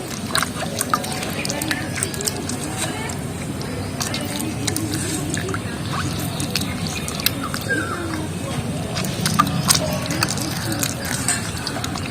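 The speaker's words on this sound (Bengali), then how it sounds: "এই তেঁতুলগুলো একটু হাত দিয়ে করে নেব, চটকে নিচ্ছি তেঁতুলগুলো।" Soaked tamarind gets squeezed and mashed by hand in water, a continuous wet squishing and dripping close up, with a voice talking over it.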